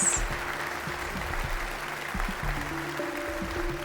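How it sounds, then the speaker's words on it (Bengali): Audience at a police talent show elimination round clapping in a steady, dense wash of applause that runs the whole moment, with a sustained musical tone underneath. "জোরে হাততালি হয়ে যাক প্লিজ।"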